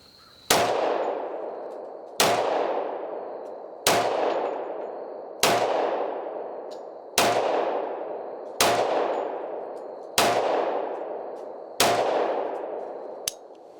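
A Rock Island 10mm 1911 pistol fires eight evenly spaced, loud, sharp shots with ringing decays, each about 1.6 seconds apart, with no talking.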